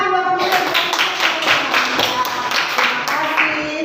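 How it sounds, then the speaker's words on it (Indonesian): Students in a classroom clap for their classmates, close and loud, with sharp individual hand claps sounding in a quick rhythm and a few voices mixing in. "Tepuk tangan buat teman-teman"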